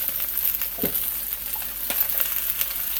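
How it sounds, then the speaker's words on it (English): Food sautéing in a hot pan for a homemade hibachi meal, seasoned with garlic powder, sizzling and frying steadily with a few soft stirring scrapes, close and fairly quiet, no voices. "I'm going to saute them until I get them to where I want them to be"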